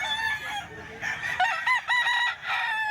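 A young gamecock stag crows close by in one short, strident cock-a-doodle-doo, rising and breaking into several pitched bursts over a quiet farmyard background, without any speech.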